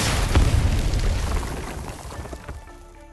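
A bomb blasts in the video game Arknights, bringing rocks down in a dead-end passage, a loud close boom followed by rumbling debris that fades over a few seconds.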